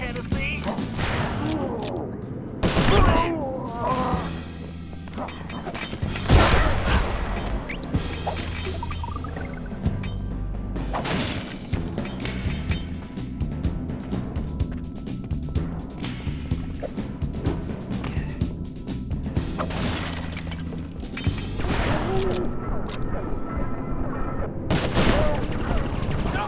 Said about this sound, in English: Looks like you're gonna have to shoot your way out, Tennessee.